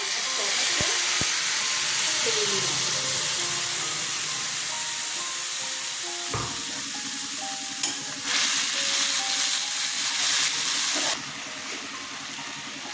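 Ginger-chili paste fries in hot oil with a steady, loud sizzle and hiss, and a sharper crackling flare-up about halfway through as the paste hits the pan.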